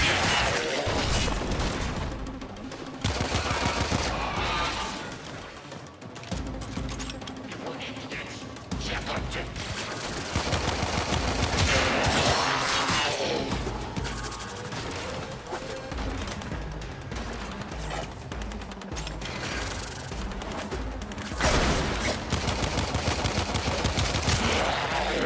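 Corpus enemies firing guns in Warframe, dense bursts of rapid gunfire and crashing impacts layered over game effects, with someone talking intermittently over the fighting.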